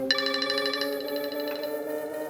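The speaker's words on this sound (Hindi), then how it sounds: "ये इस वक्त फोन क्यों कर रहा है?" A mobile phone ringtone plays for an incoming call, a bright repeating electronic melody of clear tones, fairly close and alone over a quiet background.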